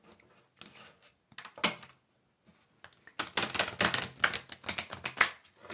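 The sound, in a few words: cutting a deck of oracle cards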